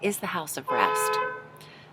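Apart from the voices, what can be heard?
car horn beeping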